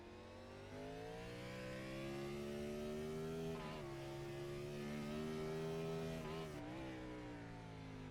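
A Gen 4 Cup race car in iRacing at Sonoma downshifts, its steady engine drone dropping sharply in pitch twice as the gears change, with the revs rising again after each blip.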